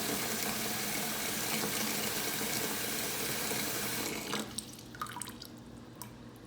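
Water runs from a tap into a container with a steady rushing stream, then the flow cuts off and a few drips and light clinks follow in the quieter room.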